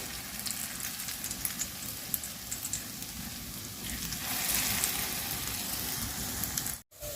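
Lentil fritters (piyaju) made with masoor dal sizzle in hot oil, a steady close crackling hiss that swells a little midway and cuts out briefly near the end.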